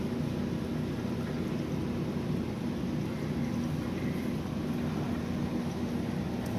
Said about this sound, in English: The only noise you hear right now is from my AC unit